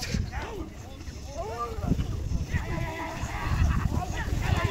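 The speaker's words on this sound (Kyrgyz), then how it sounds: "Эки ат бирдей келе жатты" Horses racing during a game of ulak, with hooves thudding and several neighs and whinnies rising over a noisy crowd and talk, the sound building louder toward the end.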